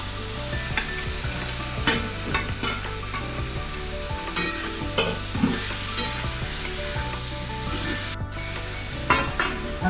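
A marinated biryani mixture sautés in a pan for a quick cooker biryani: a steady close sizzle with repeated clacks and scrapes of a spoon stirring, and no talking.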